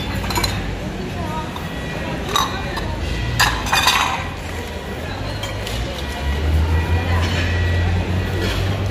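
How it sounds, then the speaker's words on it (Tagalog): Ceramic plates clink and clatter as they are handled and shifted among discarded goods in a dumpster, with repeated close knocks over a steady low rumble of background traffic. "Mga plato."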